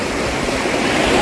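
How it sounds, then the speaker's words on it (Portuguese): Waterfall at Cachoeira Imbira in Cristalina, a steady broadband rush of falling water that stays constant and close throughout, with no voices over it. "Chegamos aqui na Cachoeira Imbira, mais uma cachoeira em Cristalina."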